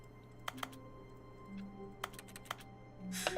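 Keyboard key presses in the video game Stapara DX: sparse, sharp single clicks spaced irregularly over a low steady hum, with soft game tones and a brief rustle at the end.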